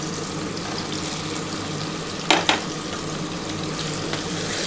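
Eggplant goes into hot oil with potato and pumpkin for a lau shak chorchori, a loud, steady close-up sizzle with two quick utensil clanks midway and no talking.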